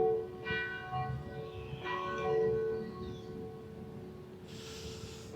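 Church bells ring in the distance during a calm outdoor moment, soft tolling tones sitting over a steady low hum, with a brighter hiss entering near the end.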